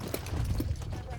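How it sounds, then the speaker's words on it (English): Horses run in a corral on a horse drive, hooves clip-clopping in a loose rapid patter, with talk over them. "Fun to watch the horses run"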